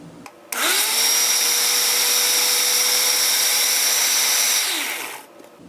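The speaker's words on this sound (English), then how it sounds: "the blender pretty much pulverized that, so it's a pretty thin applesauce" A blender whirs at high speed, pureeing cooked apples into thin applesauce, switching on abruptly, holding a loud, steady whine for about four seconds, then spinning down.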